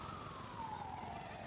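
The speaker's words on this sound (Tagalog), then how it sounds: "Ang ingay ng pulis." A single police siren sweeps slowly downward in pitch, heard from some distance over steady outdoor background noise.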